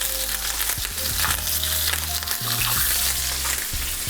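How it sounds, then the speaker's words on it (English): Sea bass sears loudly in a hot pan with thyme and garlic cloves, a dense continuous sizzle and crackle close up, with faint tones humming underneath. "So we got a beautiful sear on this side."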